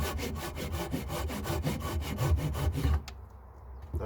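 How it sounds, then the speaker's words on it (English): A Japanese pull saw cuts through wood in quick, even strokes, a rhythmic rasping close by that stops abruptly near the end. "Apparently Japanese saws pull on the cut on the pull stroke"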